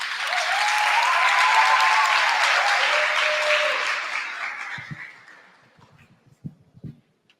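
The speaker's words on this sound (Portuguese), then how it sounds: "Recebam-na com uma calorosa salva de palmas." Audience applause at a national teaching congress lecture, a full steady clapping that swells and holds for several seconds, then thins out and dies away into a few scattered claps.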